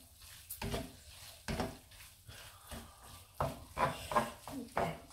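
Homemade stir fry sauce being cooked and stirred in a pan in a home kitchen, with sizzling and repeated scraping strokes of a utensil in irregular bursts, fairly quiet and close.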